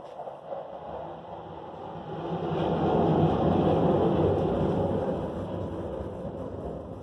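A distant military jet roar swells to a peak and then fades as it passes overhead, a broad rushing rumble with no voices.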